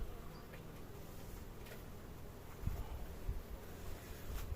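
Honey bees hum at an opened hive during a spring inspection, a faint continuous buzz with a few soft knocks near the end and no voices.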